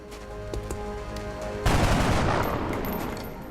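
A soldier in XCOM: Enemy Unknown fires a single loud shot that bursts in midway and decays into a crackling rumble, following quieter game tones.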